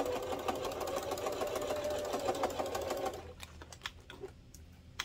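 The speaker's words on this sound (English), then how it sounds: "I always backstitch over these seams" A sewing machine back-stitches over seams on a fabric car trash can, a close, steady, rapid motor clatter that slows into a few separate ticks at the end.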